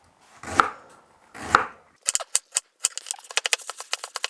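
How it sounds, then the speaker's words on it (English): A kitchen knife slices peeled ginger on a board, first two slow, drawn-out cuts, then a string of quick, crisp chopping taps that speed up into a rapid rhythm, close and clear with no talking. "slice and chop it."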